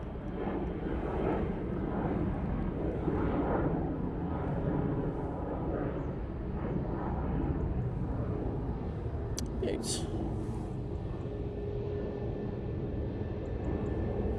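Jet airliner departing Manchester Airport for London City, a steady broad roar of engines at moderate distance, continuous throughout without clear rise or fall.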